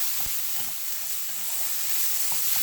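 Vegetables stir-fry in a hot pan for fried rice, giving a steady, dense sizzling hiss with faint soft taps and shuffles of stirring underneath, and no talking.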